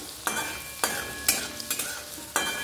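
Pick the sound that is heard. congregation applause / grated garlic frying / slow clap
grated garlic frying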